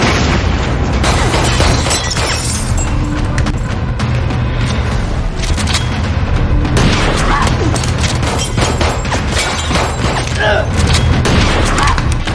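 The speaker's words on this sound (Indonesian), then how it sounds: "Paham akan maksud Lisa, Pekso lalu mengancam dengan senjata, namun Lisa terlebih dahulu melepaskan granatnya." A grenade blows up during a film's violent confrontation, a sustained loud rumbling blast with crashing debris and bursts layered through it, dense and close for the whole stretch.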